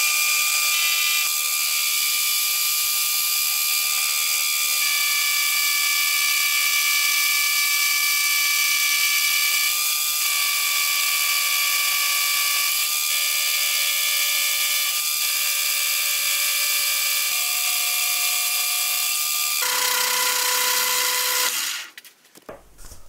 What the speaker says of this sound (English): So the first thing I'll do is machine in the top end shank.